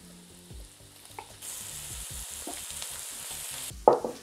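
Bacon rashers drop into a hot pot with softened onions for a Halloween Irish stew and settle into a steady sizzle, with some stirring clatter and a sharp knock near the end.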